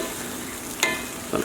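Thyme and asparagus cook in a pan with a steady, even sizzle, broken by two brief clinks or stirring knocks near the end.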